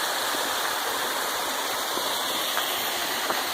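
A mountain creek rushes across a hiking trail on the Eagle Creek route to Wahtum Lake, a loud, continuous close-up wash of flowing water with no voices.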